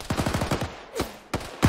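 A rapid burst of close gunfire in Arma 3, then several heavier single thumps as a GP grenade launcher fires, loud and near, with no voices.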